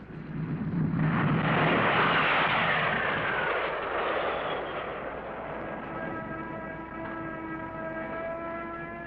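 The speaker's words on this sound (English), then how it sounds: "They come in at 140 knots and have just 100 yards of deck in which to stop." A 1950s navy plane roars loudly as it comes in to land on an aircraft carrier deck. The jet rush peaks early, then eases into a steady engine drone with whining tones.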